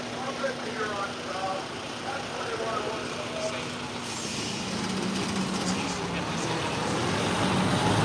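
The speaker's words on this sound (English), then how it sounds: "Probably not now that I'm beside this truck." A truck runs nearby with a steady low engine rumble that grows slightly louder toward the end, under faint background voices from a loudspeaker.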